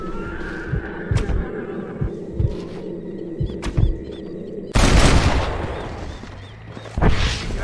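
Gunfire in the Western video game Red Dead Redemption, sharp shots popping irregularly over galloping hooves and a horse whinny, then a loud burst of heavy firing and rumbling blasts, with no speech.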